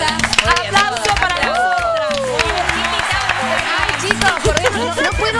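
A burst of applause and cheering from a crowd, mixed with lively talk and music throughout.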